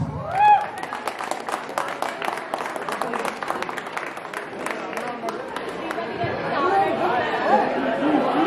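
Crowd applause and clapping at a housing committee oath ceremony, steady and moderately loud, mixed with chatter and murmuring voices throughout.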